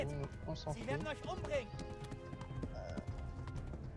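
Rhythmic hoofbeats of a galloping horse in Kingdom Come: Deliverance with the game soundtrack, a voice talking in French over it throughout.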